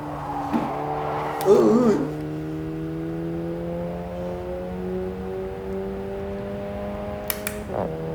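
A VW Polo GTS racing at Cadwell Park in Automobile Sport 2 (AMS2), a steady engine drone held through the gear with a brief louder burst early on and a short click near the end.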